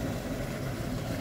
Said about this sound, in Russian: Ого, шум воды какой